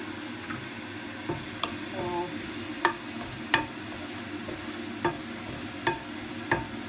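Masala sautés in a pan for cashew nut bhaaji, a low sizzle punctuated by sharp, regular spoon scrapes and taps against the pan roughly every half second to second.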